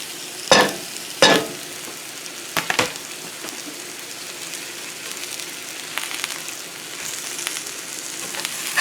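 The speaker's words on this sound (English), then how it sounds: "I'm going to put some shallots in here." Shallots frying in a pan with carrot tops and potatoes, opening with two loud bursts of sizzle as they go in, then a steady, softer crackle with scattered pops.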